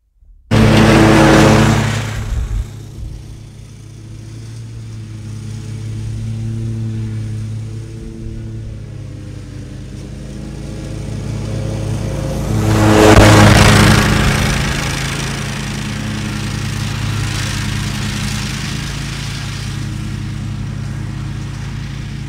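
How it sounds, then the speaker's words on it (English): A lawn mower engine runs steadily close by, with a loud start, a long even drone, and a rising surge of power partway through before settling back into a constant hum. "Now, I'm going to get back to mowing the lawn."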